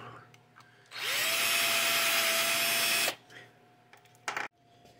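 Primer pockets on brass rifle cases being cleaned with a power tool, a loud steady whirring drone lasting about two seconds, close by, with quieter clicks and handling noises before and after.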